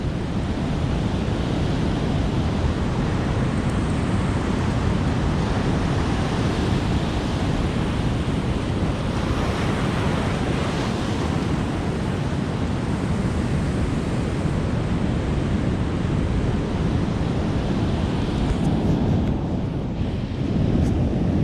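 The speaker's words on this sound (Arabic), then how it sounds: "البحر راه هايج" Rough sea waves roll and crash against the shore in a continuous loud roar, mixed with buffeting wind noise on the microphone, no voices.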